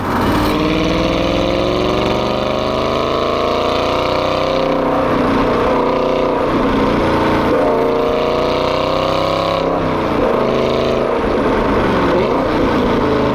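A manual Aston Martin V8 Vantage S exhaust rumbles loud and deep, steady, its pitch rising and falling as the revs change, close and continuous with no talk.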